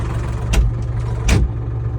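A Solis 50 RX tractor engine idles with a steady low hum inside its cab, with two brief bursts of broadband noise as the cab door opens and the engine sound swells.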